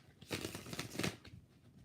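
A deck of tarot cards is shuffled by hand in two quick riffling bursts of papery flutter, close and fairly quiet, with no talking.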